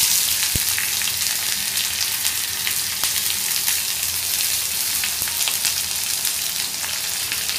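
Onion just added to hot oil already crackling with curry leaves and green chili for a bhindi bhaji, giving a loud, steady, close sizzle with scattered pops and no talk.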